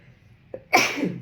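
A person sneezes once, loud and close, after a small catch of breath, with no one talking over it.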